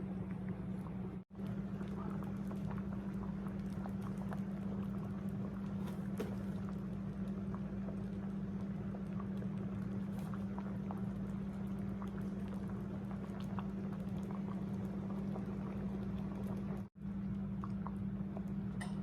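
Homemade soup simmering in a pot on the stove: a quiet, steady bubbling hiss over a low constant hum, with two brief dropouts and no talk.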